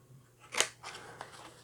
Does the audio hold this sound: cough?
no